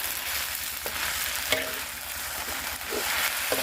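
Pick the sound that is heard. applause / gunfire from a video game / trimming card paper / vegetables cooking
vegetables cooking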